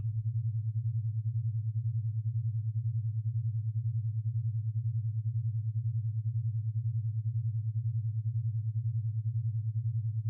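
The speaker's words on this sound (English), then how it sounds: "In the background, your brain fitness tones are guiding you towards theta" Low steady brain fitness tone meant to guide toward a theta state, a single pure hum with a gentle regular pulsing, continuous and unchanging for ten seconds with no voice.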